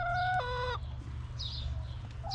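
A backyard hen called Molly clucks in a run of bright, close calls early on, then quieter scattered clucks follow over steady low rumbling background noise.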